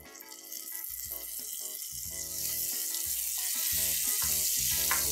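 Pureed onion paste sautés in oil in a pan, a soft frying hiss that grows louder partway through, with a tonal, musical layer running underneath and no talking.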